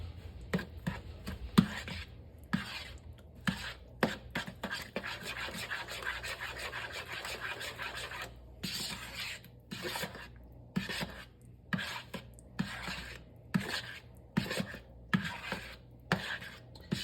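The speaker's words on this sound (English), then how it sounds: "And you're going to mix all this up in a bowl." Ingredients stirred together in a bowl for a slow cooker dinner, with sugar among them: repeated scraping and rubbing strokes, close and fairly quiet, in an irregular rhythm that pauses briefly and resumes.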